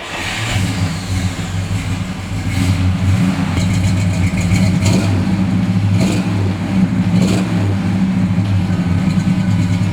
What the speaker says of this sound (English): Quite honestly, it's one of the best sounding cars we own.